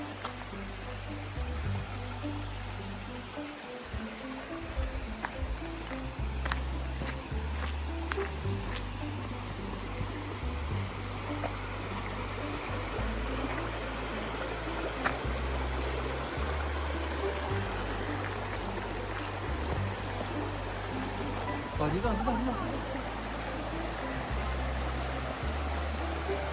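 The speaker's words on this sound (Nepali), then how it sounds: "खोलाको झर्ना" A stream tumbles over rocks toward a waterfall near Tiffany Falls, a continuous rushing and trickling wash at moderate distance, with a rhythmic low mechanical thumping and faint voices underneath.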